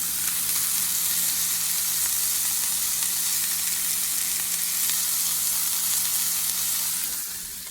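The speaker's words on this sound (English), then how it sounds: "You can fry yours however you want." Venison burger patties fry in a pan, giving a steady, loud, even sizzle that holds for several seconds before easing slightly at the end, with no talking.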